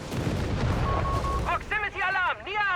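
An artillery barrage in the video game Company of Heroes 3 sets off a dense run of heavy booms and blasts that rumble continuously. A commentator's voice talks over it near the end.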